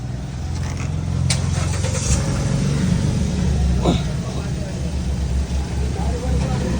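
A car engine with a rat-chewed main fuel pipe runs with a loud, steady low rumble that swells slightly as it revs, and a voice briefly speaks over it.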